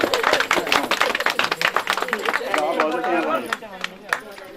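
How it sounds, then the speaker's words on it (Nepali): An audience bursts into dense, brisk clapping that tapers off over a few seconds, with voices talking over and after it. "ताली लगाइदिनु पर्यो"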